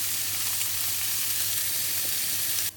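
Loud, constant sizzling of chopped bacon frying in a hot pan, a dense hiss with faint crackles, close up, cutting off abruptly at the end.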